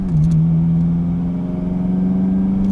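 Modified Acura RSX with a stage 1 clutch accelerating along back roads, a loud, steady engine drone holding and slowly rising in pitch, close and continuous with no talking.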